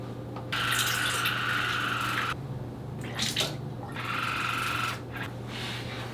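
Quip water flosser spraying inside the mouth, a steady high-pitched hiss in two bursts of about two seconds each, separated by a short pause, close and fairly loud over a constant low motor hum.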